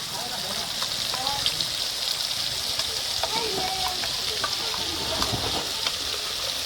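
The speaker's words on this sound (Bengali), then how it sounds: "এই যে মশলাটা আমি দিতেছি, দিয়ে এটার একটু আমি ভালো করে ভাজিয়া নিব।" Spices including cumin, coriander, turmeric, chili, ginger, garlic and onion paste fry in a pan, giving a steady close hiss and crackle with faint stirring clicks throughout.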